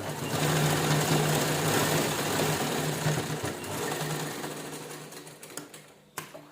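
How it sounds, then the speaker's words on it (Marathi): A sewing machine stitching an old shirt into a kitchen apron runs in a fast, steady whir for about five seconds, then slows to a few separate clacks and stops with a final click. "एकसारखं धरायचं आणि स्टिच करून"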